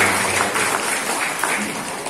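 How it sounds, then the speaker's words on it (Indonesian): A crowd claps steadily throughout at a ceremony inaugurating the HPAI chapter in Banyumas, making a dense, even wash of applause with no voices standing out. "Tepuk tangan untuk Ibu Rosalia."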